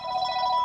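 A telephone rings with a steady electronic tone, clear and moderately loud, heard alone for a brief moment.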